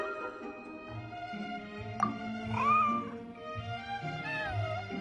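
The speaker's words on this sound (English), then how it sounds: "Here, kitty, kitty! That's it, Snowball! Good kitty!" A white cat in the video game Genshin Impact meows several times, rising and falling calls over a soft, steady musical background with low sustained tones.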